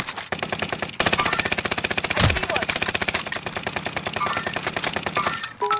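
Rapid automatic gunfire from a shooter video game, Caldera, rattles in long sustained bursts, loud and close, with a heavy blast midway and brief pauses between strings of shots.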